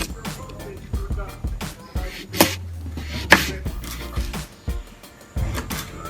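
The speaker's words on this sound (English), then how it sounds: "So you get a really sharp blade or a knife. Just slice them." A sharp knife slicing coconut into thin chips, several crisp close cuts and taps on a board at irregular intervals, with a low hum in the background.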